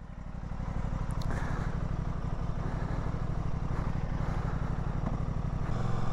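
An Aprilia RS 660 motorcycle in its A2 version pulls away from a standstill, its engine note a steady, fairly loud drone with a slight rise as it sets off, heard alone without voices.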